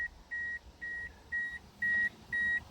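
A car's key-in-ignition warning chime sounds six evenly spaced electronic beeps, each about a quarter second long, clear and close over faint background noise.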